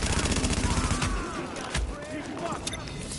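Video game gunfire in a loadout-based shooter, a rapid burst of automatic shots up front followed by a louder single blast, with in-game effects and a voice talking over it.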